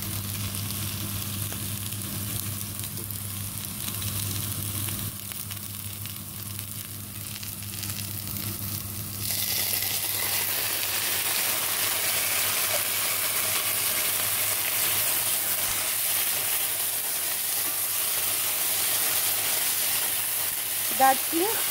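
Beef goulash with onion, paprika and tomatoes frying in a pan, a steady broadband sizzle throughout that grows louder and brighter partway through, with a faint clink near the end.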